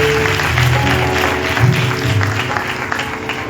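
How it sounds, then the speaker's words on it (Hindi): A crowd at a Christian evangelism gathering in Karachi claps loudly for God, the applause mixed with sustained musical tones from instruments in the hall. "खुदावन की लिए तालियां बजाते हैं जोर से"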